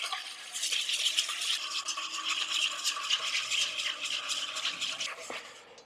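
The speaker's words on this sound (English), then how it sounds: "add this in slowly while continuously whisking. And this is just going to help emulsify the marinade, mix in the oil." Oil being whisked steadily into a chicken marinade in a bowl, a brisk continuous scraping and rattling of the whisk, close and even, with no talking.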